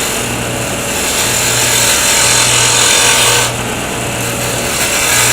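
Wood lathe spinning a small pen blank for a 7mm pen kit, a steady close hum and hiss of the cut that continues throughout with a brief dip in the cutting noise.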